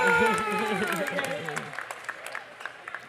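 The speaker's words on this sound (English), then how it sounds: "So let's give a round of applause to Miss Shirley and Carlin" Applause for the owners of a Chinese restaurant rises under a singing voice, then breaks into scattered, close claps that fade out over a few seconds.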